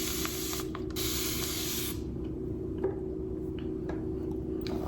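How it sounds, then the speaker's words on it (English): A spray bottle hisses in a couple of quick bursts as hair is spritzed at the roots, followed by soft handling noises and light clicks. "Gonna spray it good at the root."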